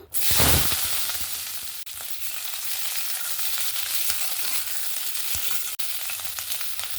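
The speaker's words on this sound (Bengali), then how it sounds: "এবার আমি ক্যাপসিকামগুলো একটু হালকা করে ভেজে নেব" Capsicum frying lightly in hot mustard oil in a kadai gives a steady, close sizzle with a burst as the pieces hit the oil, then continuous crackling with occasional stirring clicks.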